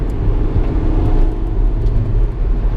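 A Honda Civic EK9 Type R's engine drones steadily from inside the car on a backroad, a loud continuous mid-pitched hum with road noise and no sharp rev spikes.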